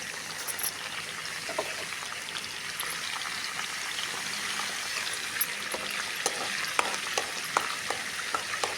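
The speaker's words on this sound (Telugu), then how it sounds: "ఓ పక్కనేమో క్యారెట్ ఫ్రై అయితే చేస్తున్నాను" Food frying in a pan, a constant sizzle with scattered sharp pops and crackles throughout.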